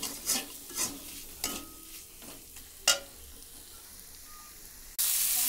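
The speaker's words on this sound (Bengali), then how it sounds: "চলো আমি কষিয়ে নিই" Chicken with spices and red chili is sautéed in a pan, rhythmic spatula scrapes and knocks over a low sizzle that fades, then a sudden loud hiss as liquid or fresh heat hits the pan.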